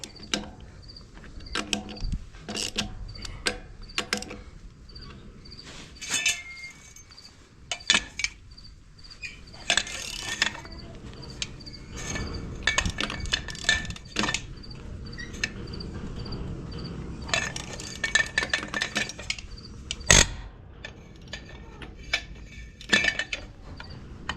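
Metallic clinks and ratcheting taps from tightening a trailer wheel bearing nut with a pipe as a lever, irregular close knocks and scrapes over outdoor insect chirping, with no talking.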